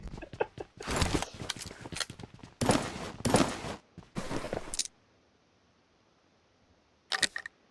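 Pump shotgun blasts in the battle royale game PUBG Mobile ring out as several sharp, loud bursts in irregular clusters, then a quiet pause before one last shot.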